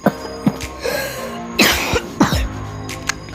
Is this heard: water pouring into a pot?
no